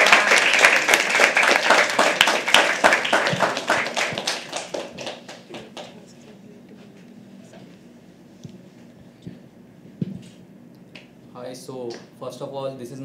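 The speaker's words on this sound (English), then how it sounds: "Keep clapping till he comes on stage." Audience applause at a live poetry open mic, a dense burst of many hands clapping that fades over several seconds into a sparse room, with a few faint claps and voices talking near the end.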